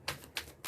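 Tarot cards shuffled by hand during a reading: three short, soft papery riffling bursts, evenly spaced and close by, with no talking over them.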